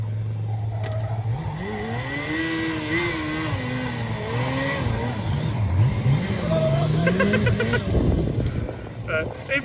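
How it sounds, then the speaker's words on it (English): A gymkhana car revs hard with wavering, rising and falling engine pitch, tyre squeal likely mixed in, under excited commentary voices throughout. "Even now, just burn the tyres up."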